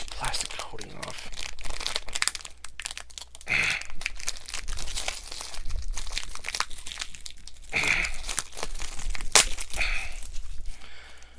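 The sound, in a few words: peeling plastic coating off a book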